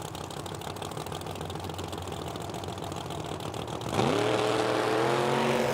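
Engine of a 1968 Chevrolet Camaro drag car at a drag strip, a steady loud idle that jumps to a harder, rising rev partway through, with no talk.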